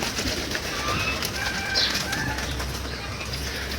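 Pigeons coo on a Bengali pigeon farm, their soft calls blending into a steady, moderately loud bed of flock noise with a brief flutter of wings, no voices present.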